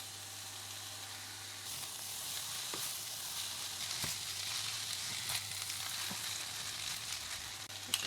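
Three eggs and noodles fry together in a pan with a steady, bright sizzle that swells as the noodles go in, broken by a few scraping stirs close by.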